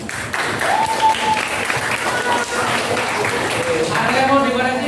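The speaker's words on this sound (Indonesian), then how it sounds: "Tepuk tangannya." Students in a classroom clap their hands together after a lesson on diving and snorkeling equipment, a lively mixed burst of clapping nearby with voices chattering over it.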